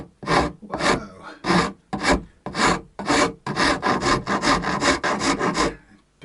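A Shinto rasp files across wood in a steady series of about a dozen rough, scratchy strokes, evenly paced at first and then quicker, loud and close with no talking.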